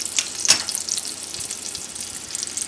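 Bacon-covered artichokes fry in a pan with a steady, close sizzle and crackle, one brief sharper pop early on, with no talking.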